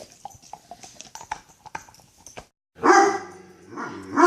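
A dog barks in a burst of loud, close barks after a stretch of quieter tapping and clattering.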